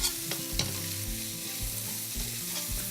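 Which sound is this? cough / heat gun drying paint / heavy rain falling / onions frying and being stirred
onions frying and being stirred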